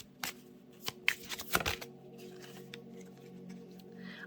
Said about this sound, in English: let's get one more shuffle for Aries